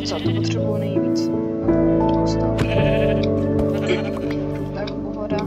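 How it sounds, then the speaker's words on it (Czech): A video-game sheep bleats repeatedly over a layered tonal music track, with sustained background tones and a steady clock-like ticking. "Ovca, to potřebuju nejvíc."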